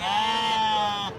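A sheep at a livestock market gives a single sustained bleat, loud and close, about a second long with a wavering tone.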